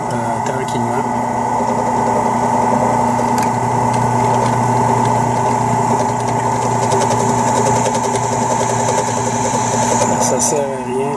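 Drill turning a 13/64 bit into material for a 1/4-20 NC thread, with a steady, loud motor whine and grinding hum held throughout, worked slowly without forcing; someone speaks French over it.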